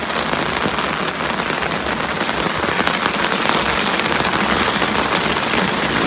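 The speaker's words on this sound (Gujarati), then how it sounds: "ફૂલ ફાસ્ટ વરસાદ ચાલુ છે ને" Heavy rain pours down steadily, a dense, loud hiss of drops drumming on surfaces with no letup.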